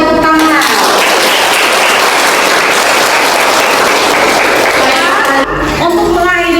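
Classroom applause from students closing a midwifery lecture at STIKES Panca Bhakti Pontianak: steady, dense clapping lasting about five seconds, with a voice speaking briefly before and after it.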